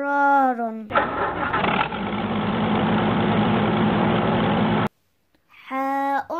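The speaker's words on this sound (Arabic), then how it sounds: "جرار." A tractor engine in a children's alphabet cartoon about transport vehicles starts and rumbles steadily at idle for about four seconds, loud and close, between spoken words.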